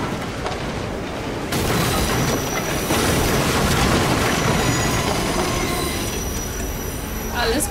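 A train in Assassin's Creed Unity rushes past at close range, a dense, continuous roar of squealing wheels and rattling carriages that swells after a second and holds loud throughout, with no talk.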